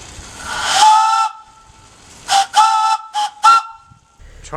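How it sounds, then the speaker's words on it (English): Shay geared steam locomotive on the Central Pasco & Gulf Railroad sounding its chime whistle: one long blast, then a pause and a run of shorter toots, loud and close with no talk. "I was granted permission to blow the marvelous whistle the Shay has"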